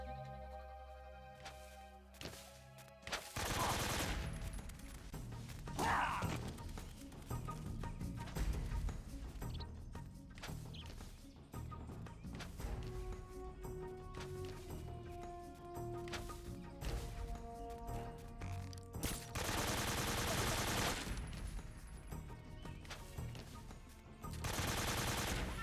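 Bursts of AK rifle fire ring out in a Metal Gear Solid 3 boss fight, sharp repeated shots and crashes layered over game music, with loud broadband volleys clustered near the start and again toward the end.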